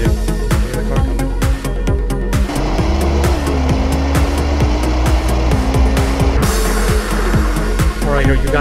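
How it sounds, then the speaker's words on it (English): Loud engine roar of a racing car drawing nearer, with a rising, shifting pitch, sharp clicks and a brief squeal-like tone toward the end. "I hear the car coming."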